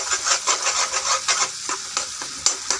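Salted onions sauté in a pan for chicken curry, a close steady sizzle broken by rhythmic scraping stir strokes that slow toward the end, with no voices.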